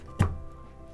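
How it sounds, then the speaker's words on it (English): A single sharp knife chop through the hard, woody core of a white chicory root, one solid thunk on a board near the start, then quiet. "So the inside core is that hard bit that I'm chopping."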